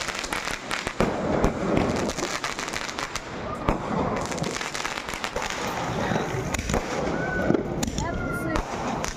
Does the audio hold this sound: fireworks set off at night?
yes